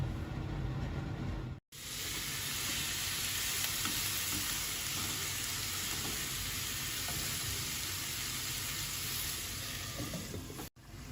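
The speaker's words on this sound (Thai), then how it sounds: "ทอดเฟรนฟรายกับไส้กรอกให้น้องเก่งนะคะ" French fries and sausages deep-frying in hot oil, a dense, steady sizzle that fills the whole stretch with no talk, broken by two very brief drops to near silence.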